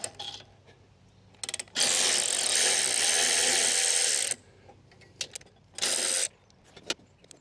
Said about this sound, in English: I have a feeling I might be able to get into it better with the ratchet.